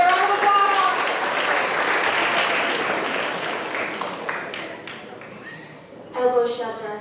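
An audience at a school spoken-word poetry final bursts into loud, dense clapping that gradually thins and fades over several seconds, before a single voice begins speaking.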